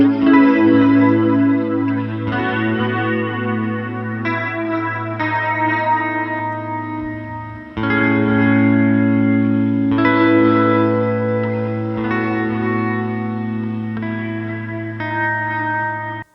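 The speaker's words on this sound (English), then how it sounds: "It's a non-lin reverb and another reverb." Electric guitar played through a Line 6 HX Stomp with a non-linear reverb stacked on a second reverb: loud sustained chords ring out in a dense, shimmering wash, with fresh strums around halfway and steady decaying tails throughout.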